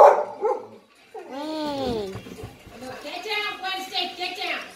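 A pet dog barks and yips in short bursts close by indoors, mixed with a person talking over it during a Brawl Stars gaming session at home.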